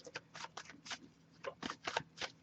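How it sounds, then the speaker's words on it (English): A tarot card deck shuffled by hand in close, brisk bursts of riffling and sliding, about nine short flurries over a couple of seconds with brief pauses between, fairly quiet and with no talk. "I'll give it a few more shuffles"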